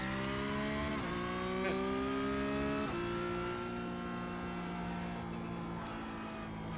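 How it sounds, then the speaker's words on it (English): A Porsche 911 GT3 (992) race car engine in a video game howls at high revs, with quick gear shifts dropping the pitch before it climbs again, steady and close. "we're driving the new Porsche 911 GT3 992 car"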